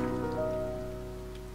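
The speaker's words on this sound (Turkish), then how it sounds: "İyi de yağmur yağıyor." Rain falls steadily in the video game To the Moon, a faint, even patter under a sustained musical tone, with no speech.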